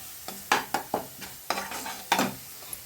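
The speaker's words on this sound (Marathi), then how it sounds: "एक चमचा वाटण टाकायचं तेही तेलामध्ये चांगलं फ्राय करायचं" Masala paste is fried in oil for a leafy cowpea greens gravy, a soft sizzle under repeated close spoon scrapes and stirring knocks against the pan, several distinct strokes in quick succession.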